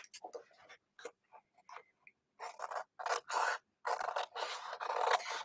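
Large scissors snip and slice through trim in short bursts, then longer cutting strokes, close up and crisp.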